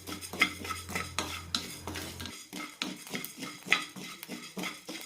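Rice is dry-roasted in a pan while a metal spoon stirs it, giving soft rhythmic scraping and light clinks, close and fairly quiet.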